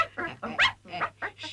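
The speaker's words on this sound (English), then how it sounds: "Stop barking." Small dog barking and yipping in a bedtime scene from a 1959 children's puppet show, several short, quick yaps with whimpery tones, fairly faint.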